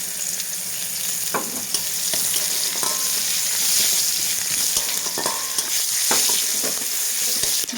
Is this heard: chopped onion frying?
yes